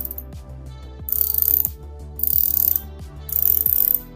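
Bezel of a Monster AD2047 diver watch, a Seiko homage, turned in three bursts of rapid ratcheting clicks, close and crisp, with short pauses between each rotation.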